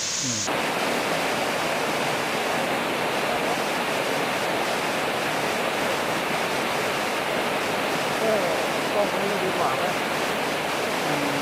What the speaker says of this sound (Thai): เสียงของพิธีกรเนี่ย ดังสู้เสียงน้ำตกไม่ได้เลยครับ เพราะว่าเสียงน้ำตกนั้น กลบเสียงพิธีกรหมดเลย